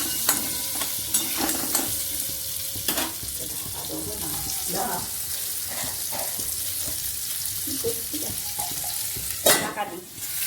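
Potatoes and ingredients for pumpkin curry fry in a pan, a loud bright hiss of oil with spoon stirring and occasional scrapes and knocks, close and continuous.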